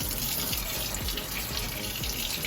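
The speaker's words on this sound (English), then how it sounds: "now take this in the sink, soak it in the water, okay?" Warm water runs steadily from a tap into a kitchen sink, a continuous close, loud gush with no break and no voices.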